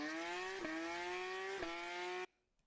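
A Porsche sports car engine revs loudly with a steady rising whine broken by two sharp gear-shift blips, then cuts off abruptly to near silence.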